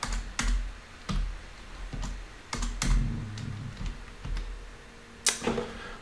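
Keystrokes on a computer keyboard while HTML code is typed by hand, coming as irregular isolated clacks and short bursts with pauses between, fairly close and alone with no voice.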